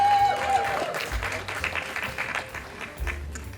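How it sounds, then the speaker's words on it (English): Audience applause at a Bianca Foundation event in 2023, a steady wash of clapping that swells and dips for a few seconds, with faint background voices and a brief tone early on. "A big round of applause for Mr."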